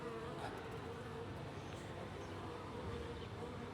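Honeybees buzzing around hives kept on a city balcony, a steady dense drone holding level throughout with no pauses, close and fairly quiet.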